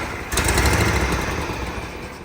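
A Toro Wheel Horse lawn tractor's small engine catches abruptly and runs with a loud, raspy, close drone.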